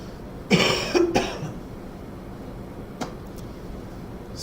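Two or three harsh, close coughs burst out in quick succession, followed by a short sharp click or clear of the throat in an otherwise quiet room with a light background hum.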